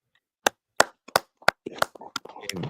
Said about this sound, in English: Y'all clap it up for the sister, man.